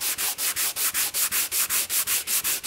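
Primer on the black body panel of a Talbot Sunbeam Lotus is dry-sanded by hand with a rigid flat block, producing about a dozen quick, evenly spaced rasping strokes, close and loud, with no talking.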